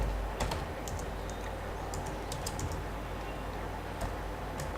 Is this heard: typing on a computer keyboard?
yes